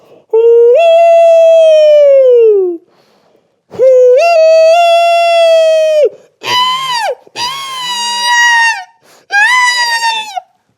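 A voice imitates a common loon's call: long, wavering wails followed by shorter rising and falling yodel-like cries, loud and close.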